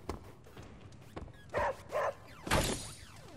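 A dog in the video game Marvel's Midnight Suns gives a few short barks and yips in quick succession, fairly close and over a quiet game background.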